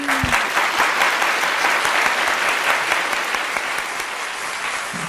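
Steady applause from a game show studio audience, sustained clapping throughout with no break.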